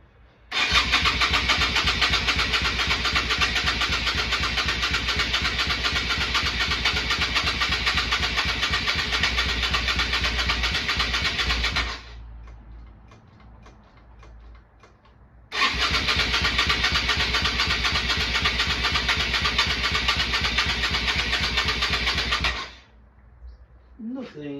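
Yamaha Virago 250 motorcycle engine cranking on full choke with the starter motor, two long loud bursts of steady churning of about eleven and seven seconds, separated by a quieter pause, never catching.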